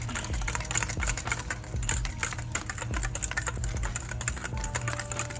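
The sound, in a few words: whisking vegan French toast batter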